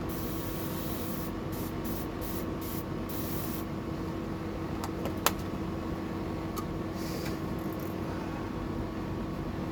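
Gold spray paint hissing from an aerosol can in a steady continuous spray, with a few short pauses and bursts early on, moderately close and without talk.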